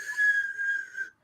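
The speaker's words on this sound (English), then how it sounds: "you're going to breathe in through that kissing shape" Air drawn inward through pursed, kissing-shaped lips makes a thin, steady whistle-like hiss lasting about a second, close and clear, with no talk.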